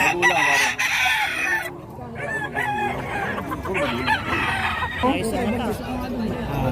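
Many chickens cluck and roosters crow together at a busy, noisy poultry market, with people chattering in the background.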